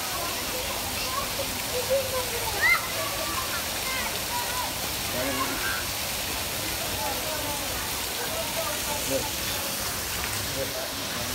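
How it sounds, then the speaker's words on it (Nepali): Water falls from above at a children's play area in a steady, hissing wash, broad and continuous at moderate level. "यो चाहिँ पानी माथिबाट झर्रा रहेछ क्या कस्तो सिस्टम बनाएको छ"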